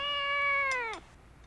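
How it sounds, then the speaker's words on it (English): A cat meowing in the animated film Kiki's Delivery Service, a single long drawn-out meow that bends downward at the end, clear and close, followed by near silence. "Oh, and he's meowing."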